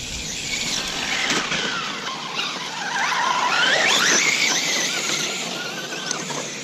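Traxxas Slash 4x4 RC car with a Castle 2200 motor and Mamba Monster ESC on 4S, run at full throttle: a loud, high-pitched electric motor whine that rises and falls, surging to a peak midway, with no talk.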